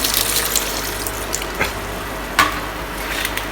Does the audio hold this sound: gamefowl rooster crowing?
no